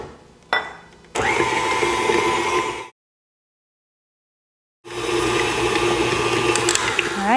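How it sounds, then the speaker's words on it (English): An electric mixer creams butter and sugar for cookie dough, giving a loud whirring motor hum that cuts out for about two seconds, then starts up again and runs steadily. "Now we'll cream the butter and sugar for about 3 to 4 minutes."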